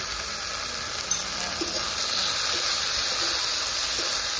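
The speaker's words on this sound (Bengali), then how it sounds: "টমেটোটা ভাজা ভাজা ভালো করে টমেটোটা গলে যাক" Tomato frying with salt and spices in a pan for a katla fish curry with taro root, making a loud, continuous hissing sizzle with a steamy edge and a few faint stirring scrapes, close by and with no speech.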